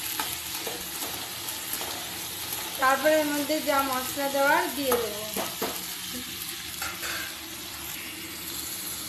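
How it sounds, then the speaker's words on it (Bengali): Chickpeas and potatoes stir-frying in a pan, a steady close sizzle with scraping stirs, while someone talks over the cooking throughout. "ছোলা আর আলুগুলো ভালো করে নেড়ে চেড়ে নেব।"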